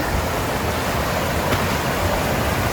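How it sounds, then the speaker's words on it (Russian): Draganov Vir, a small waterfall on a mountain river in the Stara Planina range of the Balkan Mountains, pours with a constant dense rushing roar, close and steady for the whole stretch, with no voices. "А перед нами один из небольших водопадов Драганов Вир."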